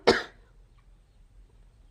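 A single sharp cough from a person, close and loud at the start, then fading into near silence with only a faint low background hum.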